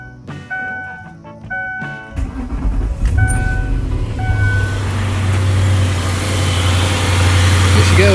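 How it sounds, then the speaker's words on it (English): A retro Ford Thunderbird engine cranks on a weak battery with a few clicks, catches after about two seconds, revs briefly and settles into a steady, loud idle. "So let's start the car."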